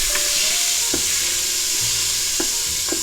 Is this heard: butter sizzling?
yes